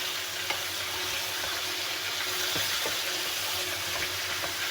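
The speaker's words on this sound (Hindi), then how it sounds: "अब इसको हमने भूनना है" Meat sautés in hot oil in a non-stick pan for aloo gosht, giving a steady close sizzling hiss with a few soft stirring clicks and no talk.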